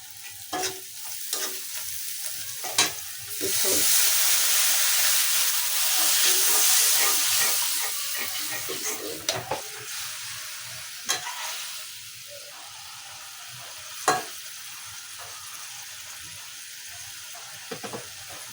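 Rohu fish roe frying in a pan as chili powder is stirred in, a steady sizzle and hiss under repeated scraping stir strokes, swelling louder midway, close and with no talk.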